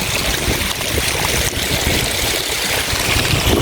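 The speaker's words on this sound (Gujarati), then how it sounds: "બધાય માં પાણી જઈ રહ્યું છે" Steady rushing water flows continuously through irrigation channels into peanut and cotton fields, a broad even wash with no breaks and no voices.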